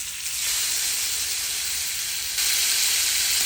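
King fish sizzles in hot oil with a loud, steady frying hiss that swells briefly partway through, with no voices.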